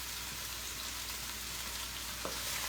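Pepper and sausage in a saute pan begin a soft, steady sizzle, faint and continuous with a brief clink near the end, no voices.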